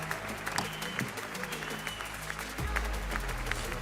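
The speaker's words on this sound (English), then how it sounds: "I've got to clap that game." Players clap after a FIFA video game match in a Hope United football challenge. A steady patter of hand claps runs throughout, with some talk and a low hum beneath.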